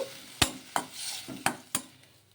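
Small-cut tomato pieces cooking in a kadai, with a soft sizzle beneath four sharp scraping stirs of a spoon against the pan, close and unhurried, no voices.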